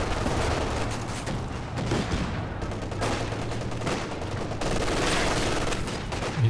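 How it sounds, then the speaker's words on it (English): Artillery in the game Company of Heroes 2 during a 2v2 match lands as loud, dense booming salvos, mixed with rattling gunfire and heavy impacts that roll on without a break. "Major artillery coming down."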